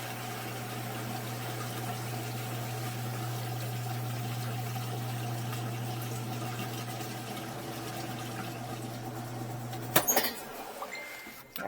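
Liquid poured down a clogged drain pipe, a steady running, gurgling flow with a low hum for about ten seconds before it stops abruptly with a clatter and fainter handling noises.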